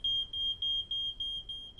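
Domestic smoke alarm beeping shrilly in a home, a rapid series of about seven piercing high-pitched pulses, loud and close, with no one talking.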